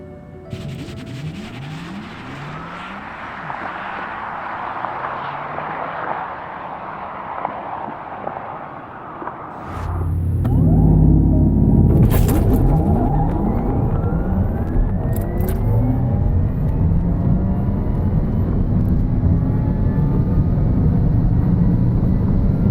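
A 2020 Porsche Taycan Turbo S electric sports car accelerates down a runway, its motor whine building as it pulls away, then a loud surge of rushing road and wind noise takes over and holds steady to the end.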